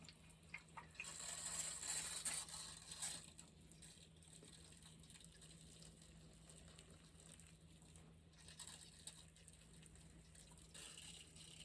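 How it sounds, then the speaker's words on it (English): Microgreen seeds in a tray of reused soil being watered, a soft, quiet trickle and splash that swells early on, settles into a faint wash and picks up again near the end, with no voices. "Yeah, just water it real good here."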